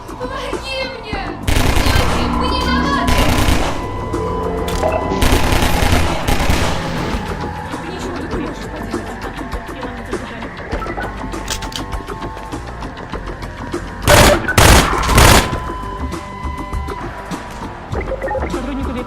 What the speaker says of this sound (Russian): Также можно вызвать нестандартное оружие, например, оружие Алекс